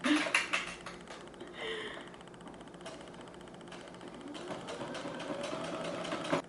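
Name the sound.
sewing machine stitching a skirt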